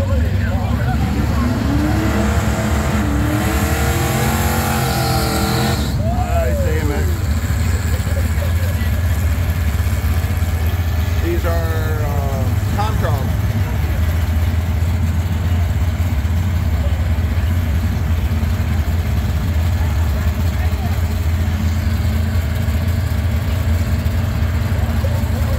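A 2022 Ram truck engine rumbles steadily at Mason Dixon Dragway amid loud, broad track noise, with a few rising revs early on and voices mixed into the din.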